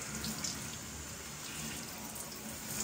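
Water spraying over a houseplant indoors at night, a steady close hiss and splash like a running tap, continuous and alone with no talking.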